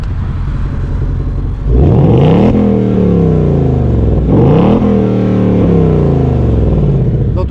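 A 2020 Ford Mustang GT with its 5.0 V8 revs hard in track mode, a loud, deep, close exhaust roar that climbs in two sharp blips from a rumbling idle and falls back, with no talk.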